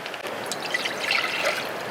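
Water pours into a pot for packet mac and cheese while cooking at a campsite, a close, steady trickling and splashing stream lasting a couple of seconds, with no talk.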